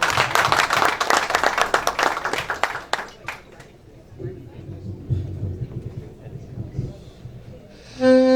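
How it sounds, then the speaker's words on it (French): Applause for a saxophonist at a live poetry and music show breaks out as quick, close clapping from a small crowd, dies away after about three seconds into low murmuring room noise, and ends on a brief tone. "Alors on applaudit Guy François au sax."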